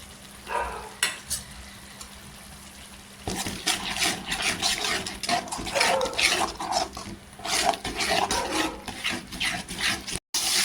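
Spice masala of chilli powder, garam masala and coriander powder is sautéed in a pan for crab curry, starting quiet, then erupting into steady sizzling and frying with scraping stirring strokes.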